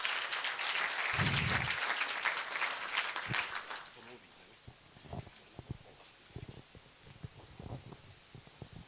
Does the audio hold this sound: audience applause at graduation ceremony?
yes